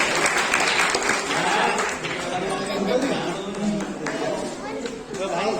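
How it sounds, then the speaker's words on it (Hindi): Audience applause at a Ramlila committee award and retirement event, sustained clapping from a crowd with chatter and voices running underneath throughout. "तालियां जरूर लगनी चाहिए।"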